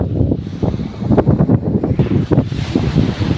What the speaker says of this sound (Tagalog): Hindi kayang lumaot at malakas na alon.